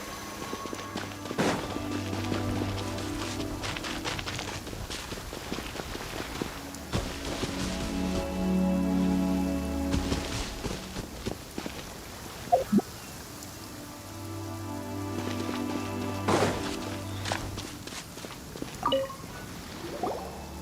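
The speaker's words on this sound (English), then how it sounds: "Rain?" Rain falls in the video game Genshin Impact, a soft scattered patter of drips and droplets at low level, with occasional sharper splashes and quiet game sounds beneath.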